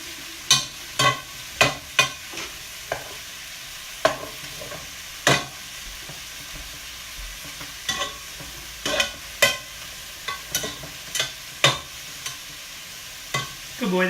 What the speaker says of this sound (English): we're going to get the cauliflower in there and just saute it up a little bit with everything